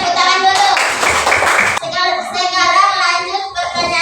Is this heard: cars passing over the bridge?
no